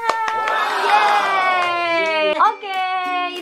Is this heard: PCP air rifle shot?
no